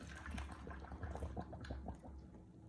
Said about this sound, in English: Now we're gonna take this and simply pour hot water, it's been boiling, into the jars.